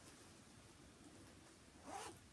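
A quick pull of a blue zipper near the end, a short rasping zip that stands out against quiet handling and faint rustling.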